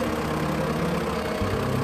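A Standard Fordson tractor engine runs steadily nearby with a low, continuous rumble and a dull, knocking idle beat, with no talk over it.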